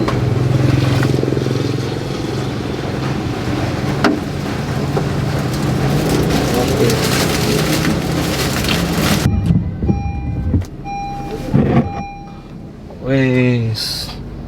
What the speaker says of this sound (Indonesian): Pondok dan Padang masih hujan